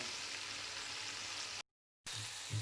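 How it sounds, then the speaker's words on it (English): Bacon sizzling in a frying pan: a steady, fairly quiet crackling hiss with a brief gap of silence partway through, then the frying resumes. "just cook the bacon until it's nice and brown"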